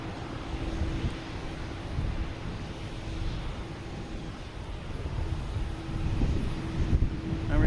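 Airliner taking off at Boston Logan Airport, a steady moderate jet roar with wind buffeting the microphone, swelling slightly toward the end.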